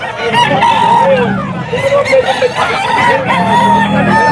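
Several gamecocks crowing one after another at a rooster seller's stalls in Bocaue, loud and close, with clucking between the crows and a little talk in the background.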